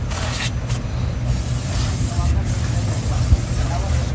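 Brake cleaner is sprayed onto a brake drum during a brake shoe replacement, giving a continuous close hiss over a low background hum.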